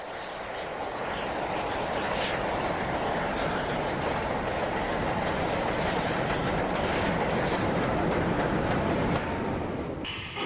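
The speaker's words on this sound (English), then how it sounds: "an Ibid Class 2260 heads south with a freight." Steam locomotive of the Ibid Class 2260 hauling a southbound freight train in 1966, a steady, loud rolling rumble with a continuous chuffing wash of noise that holds for the whole passage and eases off at the end.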